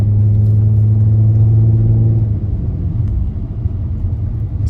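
A Nissan Maxima engine roars hard and steadily up close at full throttle, then settles into a lower, rougher rumble for the last couple of seconds; the car shakes slightly under full throttle.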